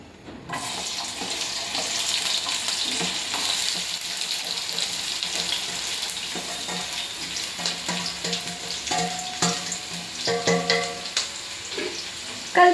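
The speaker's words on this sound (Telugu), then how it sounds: "సో ఇందాక కట్ చేసిన ఉల్లిపాయలు పచ్చిమిరపకాయలు వేసుకోండి" Chopped onions and green chillies frying in a pan give a continuous, bright sizzle with a running-water quality, and clinks and scrapes of stirring grow busier toward the end.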